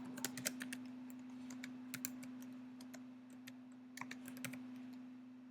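Light, quick typing of equations into Desmos on a computer keyboard in short bursts of clicks, close by, over a steady low electrical hum.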